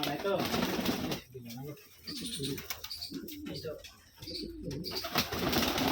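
Giribaz pigeons kept in an enclosed loft coo in soft, repeated low phrases, mixed with a few chirps and fluttering, while people talk nearby throughout.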